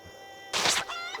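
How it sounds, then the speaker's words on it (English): A cockerel and chickens in the video game Project Zomboid give a short, sharp burst of clucking, fairly loud and close, with no talk over it. "Oh no, I'm actually being attacked by the cockerel."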